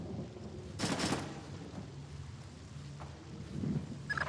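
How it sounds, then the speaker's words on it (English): A few sharp bursts of distant gunfire in the video game Splinter Cell Chaos Theory, with a brief cluster early and a fainter crack later, over low rumbling ambience. "I'm hearing gunfire down there, Fisher."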